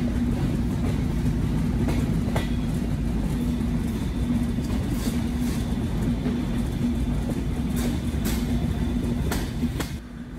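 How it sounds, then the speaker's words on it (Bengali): A Benapole Express train pulling into Chuadanga railway station, with a steady loud rumble of wheels and engine running throughout and faint clanks on top, easing slightly at the very end. "আমাদের ট্রেন অবশেষে এসে পৌঁছালো আমার গন্তব্য চুয়াডাঙ্গা রেল"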